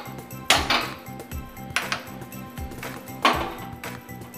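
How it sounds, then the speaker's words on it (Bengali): A kadai set down on a gas stove, three distinct metallic clanks and scrapes spaced through the clip, ringing briefly over a low steady hum. "তাহলে এবার আমি গ্যাসটা অন করে কড়া বসিয়ে দিই।"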